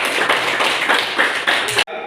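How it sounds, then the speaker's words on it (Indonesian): Students clapping together in a classroom during a lesson, a brisk burst of rhythmic group handclaps lasting about two seconds before stopping abruptly. "Iya, kita tepuk tangan dulu."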